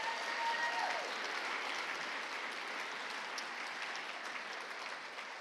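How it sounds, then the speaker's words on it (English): An audience at a 2023 EarthCorps reunion evening applauds as a round for the keynote speakers, a broad, fairly distant wash of clapping that holds steady and slowly fades. "Let's give them all a big round of applause."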